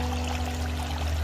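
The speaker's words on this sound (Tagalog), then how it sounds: "dito papasok yung tubig pag umapaw doon sa kabila sa second chamber" Water spills steadily from one koi pond filter chamber into the next, a continuous close pour with a low, even rush and no talking.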